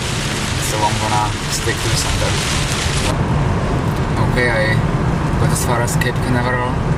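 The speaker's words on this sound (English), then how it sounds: "The rain is continuing." Steady heavy rain from Tropical Storm Ernesto near Melbourne on Florida's east coast in 2006 makes a constant loud broadband hiss, with someone talking over it throughout.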